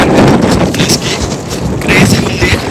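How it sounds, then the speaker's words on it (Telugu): Strong wind at Gleniff Horseshoe in Sligo, buffeting the microphone in loud rumbling gusts that surge and ease over a few seconds, close and blustery. "చాలా విండ్ వచ్చేసింది"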